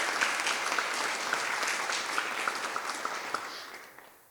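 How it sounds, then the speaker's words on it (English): Audience clapping at a crime victims' rights luncheon, a steady wash of applause from a full room that holds for about four seconds, then fades out at the end. "so let's give all them a round of applause"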